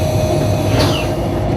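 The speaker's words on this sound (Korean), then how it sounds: "열차가 철로를 달려가고" Korean Mugunghwa passenger train on the Gyeongjeon line, a loud steady rumble of wheels on rails with a brief high squeal partway through, close and continuous.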